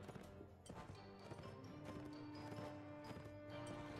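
Horse hooves clip-clop in a busy battle of the video game Mount & Blade: Warband, steady rapid thuds layered over a dense, loud game soundscape with tonal music or drones throughout.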